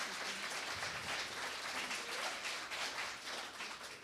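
Audience applause at an artist talk, a dense continuous wash of many hands clapping at moderate volume, sustained evenly throughout with no voices over it.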